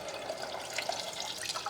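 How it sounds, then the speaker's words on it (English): Water poured slowly into toasted rice in a pot, making a steady hissing splash with light bubbling that stays even throughout. "So now I'm going to add the water."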